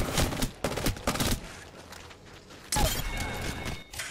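Apex Legends gunfire crackles in bursts of rapid shots, loud and close. Several shorter volleys are separated by a quieter gap, then a dense sustained burst follows.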